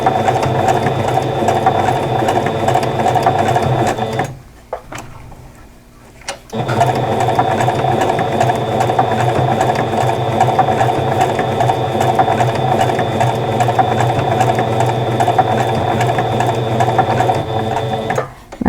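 Sewing machine stitching quilt fabric slowly around curved corners, a loud, steady mechanical whirring hum close by that stops for about two seconds while the fabric is adjusted, then resumes and runs on without pause.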